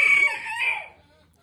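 A rooster crows once on a small farm in Croatia, a loud close cock-a-doodle-doo with a rising then falling call that fades out, no talk over it.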